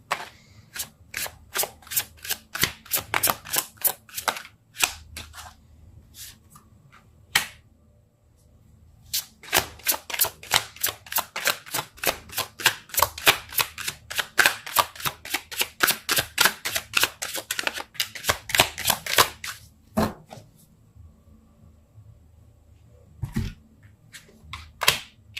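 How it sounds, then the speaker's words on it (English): Tarot cards are shuffled by hand in repeated bursts of rapid, crisp snapping riffles, close and clear, with short pauses between rounds and no talking. "I just can't shuffle."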